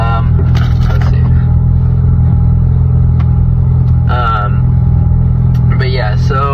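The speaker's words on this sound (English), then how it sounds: "I have a 2017 Focus ST. Which you'll hear it as I'm driving." A 2017 Ford Focus ST hums with a steady low engine drone while driving, audible throughout beneath someone talking over it in short bursts.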